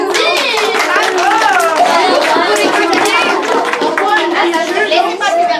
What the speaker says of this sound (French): On l'applaudit! Bravo!